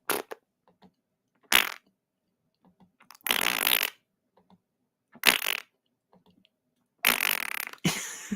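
Comedic fart noises stand in for the sounds of the sun on a weather show, as five loud, raspy, spluttering bursts of varying length with quiet gaps between them.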